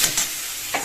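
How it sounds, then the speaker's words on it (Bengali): Spice paste of onion, ginger, garlic, chilli and coriander powder with a little tomato sauce frying in a pan, giving a brief close sizzle with a couple of scraping stirs. "মশলাটাকে ভালো করে কষিয়ে নিচ্ছি"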